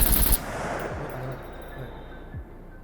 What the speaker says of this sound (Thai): เดี๋ยวลองยิงกันดูครับ